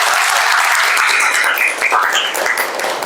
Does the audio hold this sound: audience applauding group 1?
yes